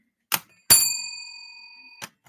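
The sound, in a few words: old bell ringing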